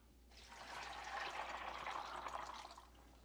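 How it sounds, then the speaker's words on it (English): Water runs over raw almonds being rinsed by hand, a steady splashing hiss of tap water that fills most of the stretch at moderate level, starting abruptly and fading slightly at the end, with no talking. "I'll just use some water and rinse them off."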